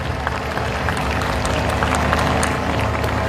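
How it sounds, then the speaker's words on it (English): Audience applause at a school annual function, steady dense clapping from a crowd filling the whole stretch at an even level. "Can we have a big round of applause for the BBRT management?"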